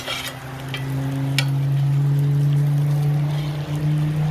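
Bacon frying in a pan on a griddle for smash burgers, a steady close sizzle with a strong low hum running underneath and a few sharp clicks and crackles near the start.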